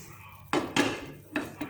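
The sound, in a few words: flipping noodle martabak in a pan onto a plate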